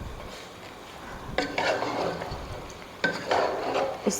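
Chicken frying in a pan for Balochi karahi, a soft steady sizzle broken by two bursts of metal utensil scraping and stirring against the pan, close up and with no talking.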